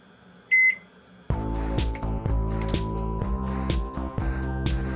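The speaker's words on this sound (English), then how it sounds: "So, microwave these stupid pizza pouches that are clearly still frozen." A microwave oven in the Always Sometimes Monsters video game heats frozen pizza pouches: a short beep, then a steady loud hum with regular clicks and small bumps that keeps going to the end, with no voices.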